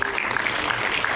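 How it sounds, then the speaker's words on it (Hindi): An audience at an awards function applauds with a dense, steady wash of many hands clapping, heard at moderate distance and filling the whole brief moment without speech. "जोरदार ताली हो जाए।"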